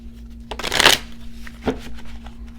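A deck of tarot cards shuffled up close, one crisp riffling burst followed by a shorter softer shuffle, loud and clear over a faint steady hum, with no talk.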